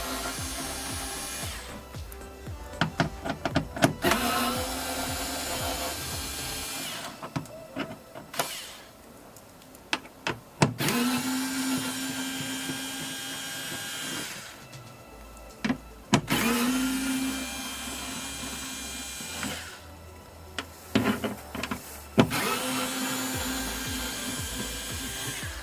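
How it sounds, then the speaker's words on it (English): A 10mm socket on a ratchet backs bolts out of a Ford Fiesta Mk7 rear door during window regulator replacement. Close, uneven bursts of clicking and whirring repeat with scattered sharp knocks and short pauses. "next with the 10mm socket, we're going to remove all these bolts."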